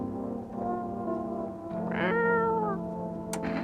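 A cartoonish cat meows in the video game No, I'm Not A Human while it is petted and fed, one drawn-out, rising meow rings clearly over a steady humming game soundtrack.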